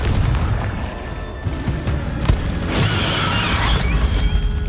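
Confringo fire spell explosions in the video game Hogwarts Legacy, heavy booming blasts over a rumbling, crackling bed, with a sharp impact in the middle followed by a fiery roar.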